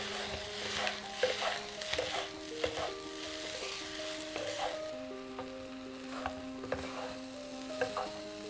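Chow mein noodles sizzle and fry in a wok while a utensil stirs and scrapes, with clinks and light knocks over a steady crackle.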